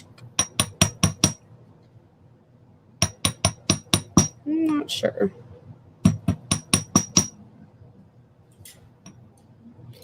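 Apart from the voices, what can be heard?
hammer flattening wire for hoop earrings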